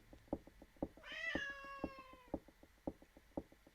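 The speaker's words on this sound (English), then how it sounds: "Oh, I love when you do that little meow, meow, meow." A cat in the video game Clock Tower: Rewind lets out a long, drawn-out meow over a steady rhythm of knocking or ticking beats, with a faint ambient background.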